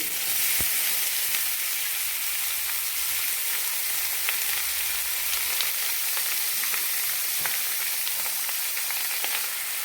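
Chili, curry leaves, long beans and onion frying in a pan, giving a steady, close, even sizzle and crackle that runs unbroken throughout, with no talking.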